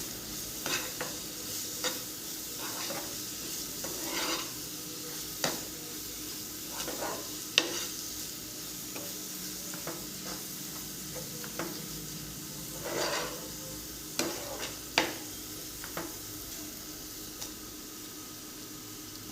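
Potatoes and green peas with onion-garlic masala stir-frying in a pan: a steady close sizzle runs throughout, with frequent scraping, clinking stirs of a spatula against the pan.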